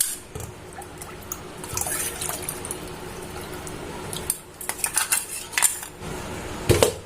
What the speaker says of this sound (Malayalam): ഇത് നമ്മുടെ ഈ മാങ്ങയുടെ ജ്യൂസ് ഇതിലോട്ടിട്ട് ഒന്ന് കലക്കി കൊടുക്കുക.